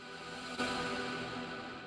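A reversed ambient shot sample in FL Studio, used to lead into a new section: a dense, washy wall of tonal noise that swells slightly and holds steady, fairly quiet and without talking.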